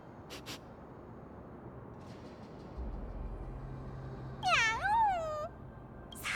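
A single rising-and-falling meow sounds briefly and clearly over a quiet ambient background in the video game Honkai Star Rail, voiced by a character imitating a cat.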